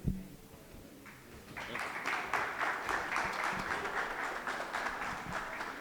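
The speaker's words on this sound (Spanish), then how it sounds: "Vamos a recibirlo con un aplauso" A small audience welcomes a speaker with applause that starts sparse and quiet, then swells into a fuller, steady patter of clapping for several seconds.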